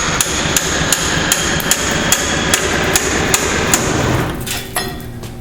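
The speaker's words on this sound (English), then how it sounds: "I'm going to stick a pickle fork in there and try to separate the upper from the knuckle" Repeated sharp hammer blows strike a pickle fork wedged into the upper ball joint of a Chevy half-ton 1500 truck, about a dozen ringing metallic hits at a steady pace, loud and close, with a few scattered taps at the end.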